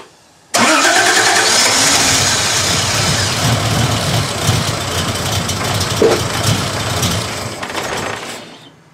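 A 1968 Triumph TR250 engine catches after a brief pause, then runs loud and rough at a steady fast idle for about eight seconds before cutting off abruptly.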